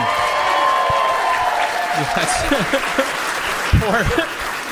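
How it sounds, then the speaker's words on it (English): Audience applause at a stand-up comedy show, a steady wash of clapping throughout with some shouting and voices rising over it near the end. "Clap it up one more time for Grace and Bob."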